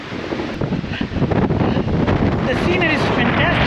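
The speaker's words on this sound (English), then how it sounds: "Yeah, it's very windy and very cold." Strong cold wind at a nature park buffeting the microphone with continuous loud rumbling gusts, while a voice speaks briefly over the blustery roar.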